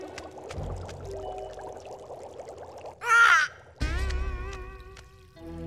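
A cartoon glass being filled with cool filtered water: a short, bright, splashy pour bursts out for about half a second in the middle, set among music and other cartoon sound effects.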